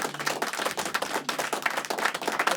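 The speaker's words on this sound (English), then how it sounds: "Let's give him another round of applause." Studio audience claps for a returning singer, a short burst of distinct, fairly close hand claps with an uneven rhythm.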